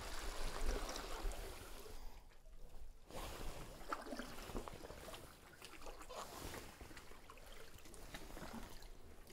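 A kayak drifts on the water off Roque Island, with soft lapping, trickling and gentle wind washing around the hull in a quiet, continuous outdoor wash.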